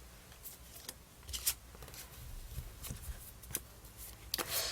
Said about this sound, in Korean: 조합 카드 한번 뽑아 볼게요